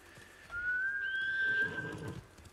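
A horse in the samurai video game Ghost of Tsushima lets out one clear, rising whinny lasting over a second, loud and close, with soft hoof and ambient game sounds beneath it.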